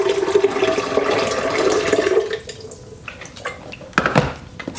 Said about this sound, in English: I'll add some water. This is just cold water.